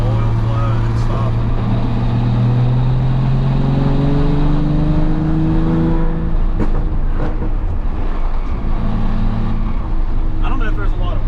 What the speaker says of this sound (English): I want to let it warm up because it's been sitting for a while, so I want to get the oil flowing and stuff.